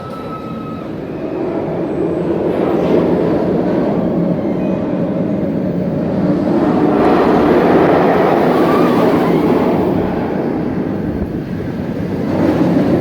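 Cobra's Curse roller coaster at Busch Gardens Tampa rumbles continuously on its track with a loud, sustained roar that swells and eases across the ride.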